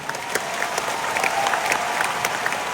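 Audience applause at a singing competition finale, steady clapping from many hands that stays fairly loud across the whole stretch, with a few sharper claps standing out.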